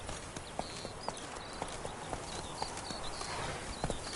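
Roach, the horse from The Witcher 3: Wild Hunt, trots with steady, evenly spaced hoof clops over a dense outdoor ambience, each beat crisp and moderately close.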